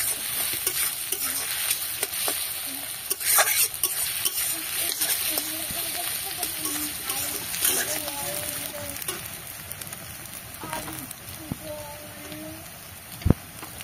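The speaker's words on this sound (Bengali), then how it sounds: "পেঁয়াজটা বেশ লাল লাল করে ভেজে নিতে হবে। কাঁচা লঙ্কাটা এবার দিয়ে দিলাম।" Sliced onion and green chili fry and are stirred in a pan, a continuous crackling sizzle broken by scraping strokes and a sharp knock near the end, with a faint voice in the background.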